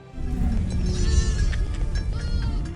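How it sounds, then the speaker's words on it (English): Moroccan tree-climbing goats bleat in a close, loud cluster of overlapping wavering calls lasting a few seconds. "They're Moroccan goats that can climb trees."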